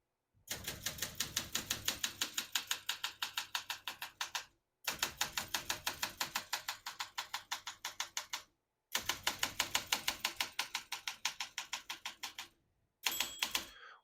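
Typing on a 1966 Olympia SM9 vintage portable typewriter: three long runs of rapid, even key strikes, each followed by a brief pause, then a short final burst, crisp and close with no voices.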